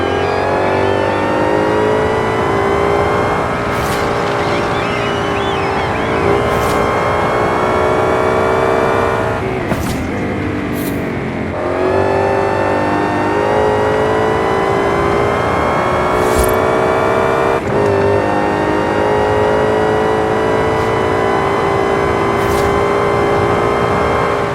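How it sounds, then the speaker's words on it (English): A supercharged Ford Raptor R truck in Forza Horizon 5 revs loud and close, its engine climbing in pitch with a whining supercharger, dropping briefly around gear changes and surging again. "the supercharger sounds in this game really do sound incredible, which I will cue the lovely Raptor R right now in the background"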